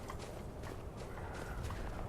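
A horse walks in Skyrim, its hooves clip-clopping in a quiet, steady rhythm over a soft, constant background, faint and brief.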